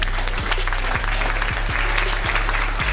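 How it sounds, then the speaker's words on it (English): A studio audience at a homemade runway model show claps steadily, a dense, continuous round of applause heard close and loud throughout. "Give me a round of applause."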